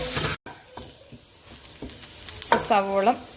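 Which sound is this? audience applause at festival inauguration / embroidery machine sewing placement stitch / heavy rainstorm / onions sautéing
onions sautéing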